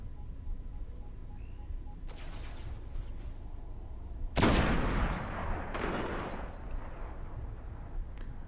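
Gunfire from a sniper rifle in the video game Destiny, a loud sharp blast with a long rolling echo, preceded by fainter crackling shots and followed by another softer report.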